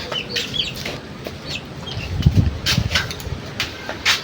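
Chickens cluck in a rural Bengali yard while they wait to be gathered up, giving several soft, scattered calls at a moderate distance over a light background hiss, with a slightly louder cluster partway through.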